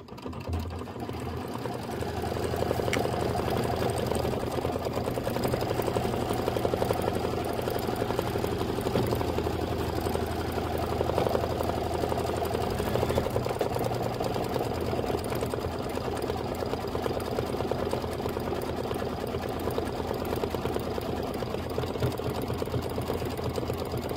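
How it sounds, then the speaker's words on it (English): A sewing machine runs continuously, satin stitching a Kimberbell autumn quilt with a dense, steady motor hum and rapid needle chatter that keeps going throughout. "this is 3 minutes of satin stitching"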